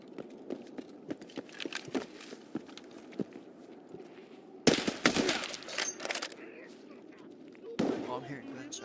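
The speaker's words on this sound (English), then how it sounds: "Oh, I'm hearing gunshots." Gunfire in the video game Escape from Tarkov: scattered sharp gunshot cracks and a dense burst of rapid shots, with footsteps and a voice talking over the game sounds.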